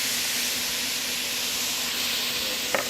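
Garlic slivers hitting a hot cooking pot for wagyu brisket chili: a steady loud hiss and sizzle that holds throughout, with one brief clink near the end.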